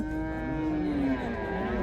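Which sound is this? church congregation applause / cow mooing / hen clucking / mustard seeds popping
cow mooing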